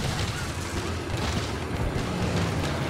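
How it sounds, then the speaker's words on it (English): A continuous rumbling roar of explosions in the video game Sniper Elite 3, dense and booming with no clear gaps between blasts. "Why am I hearing more explosions?"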